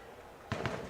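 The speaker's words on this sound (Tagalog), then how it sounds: "Talagang ang lalakas ng mga paputok." Loud firecrackers go off in two sharp, close bursts about a tenth of a second apart, cutting through the low background hum.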